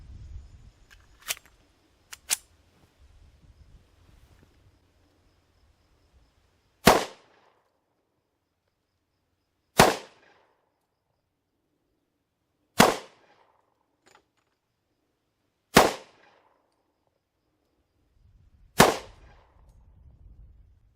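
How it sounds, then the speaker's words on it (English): A Ruger SR1911 10mm pistol fires 200 grain loads over Blue Dot powder at an outdoor range, with five sharp, loud shots spaced about three seconds apart, preceded by a couple of fainter clicks and handling sounds. "we're gonna shoot the 200 grain loads loaded on top of Bluedot and see exactly what the numbers are"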